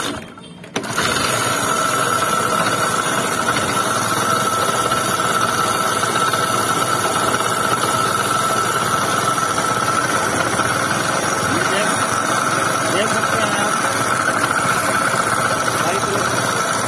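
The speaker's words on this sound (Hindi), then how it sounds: "चलो अब हम फिर गाड़ी को स्टार्ट करेंगे और आपको इंजन का साउंड सुनाएंगे" A vehicle engine cranks over and catches, then idles steadily and loudly for the rest of the stretch with a constant mechanical clatter and ticking running through it.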